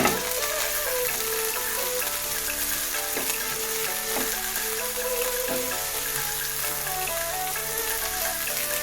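Leafy green thoran cooking in a pan, a loud, continuous sizzle and crackle of frying greens that stays steady throughout, with no talking.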